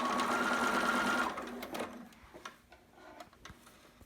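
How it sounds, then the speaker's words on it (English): A sewing machine backstitches elastic onto a newborn romper in a short, close, steady burst, then stops, leaving a few small clicks and handling noises. "I'm gonna back stitch"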